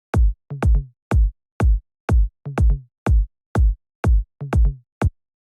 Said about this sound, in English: Some things we want to add is a kick and also a like low tommy